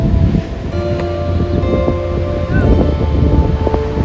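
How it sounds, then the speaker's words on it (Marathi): Strong wind at the Konkan coast near Ganpatipule buffets the microphone, a continuous rushing roar with faint rustling and no clear talk. "खूप छान वारा आहे मस्त वाटतं एकदम."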